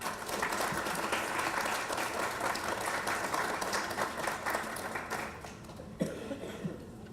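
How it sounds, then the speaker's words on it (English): An audience at a college awards and induction ceremony claps in sustained applause, a thick crowd of hands with a few sharper claps standing out, fading slightly near the end. "Please welcome her with a round of applause."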